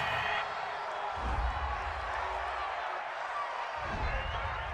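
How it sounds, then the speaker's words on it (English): Home crowd at an NFL game between the Indianapolis Colts and Tennessee Titans roars after a pass interference call against the defense, a loud, sustained stadium cheer with swells throughout. "This home crowd, they're happy with that call."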